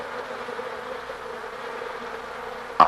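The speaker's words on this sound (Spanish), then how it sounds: "El vigoroso movimiento de sus alas produce corrientes de aire que evaporan el agua" Honeybees fan their wings inside a hive, making a steady, even buzzing hum throughout, with a brief louder knock at the very end.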